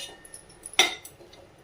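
Chopped green beans are stirred in a pan as they sauté, with a sharp clink of a spoon against metal and faint scraping and ticking around it.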